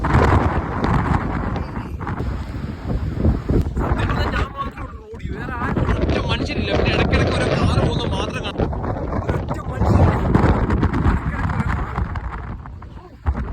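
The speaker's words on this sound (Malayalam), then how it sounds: "നല്ലപോലെ കാറ്റടിക്കുന്ന ഏരിയ ഇത് കണ്ടോ" Strong storm wind at a bus stop in the UK buffets the microphone in a steady, loud rumble throughout, with a voice speaking over it at times.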